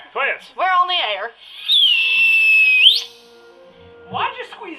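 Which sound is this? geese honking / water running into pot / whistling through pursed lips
whistling through pursed lips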